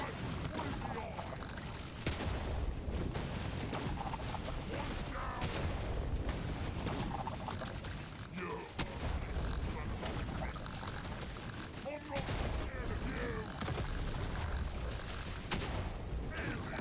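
Repeated explosions and gunfire rumble and crackle in the video game Deep Rock Galactic Survivors, a busy, fairly quiet stream of booms and bursts heard under someone talking.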